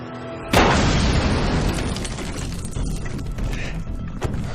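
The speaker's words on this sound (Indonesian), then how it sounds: "mereka pun meledakkan pintunya agar mereka bisa keluar dari sana" A door blasts open in a loud explosion in a scene from Agents of SHIELD, a sudden boom followed by a long rumbling, crackling wash of debris and noise that slowly fades, with a sharp impact near the end.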